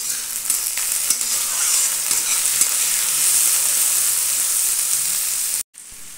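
Mixed vegetables with green chili sizzle and fry steadily in a pan, a loud continuous hiss with occasional stirring knocks, cutting out briefly near the end.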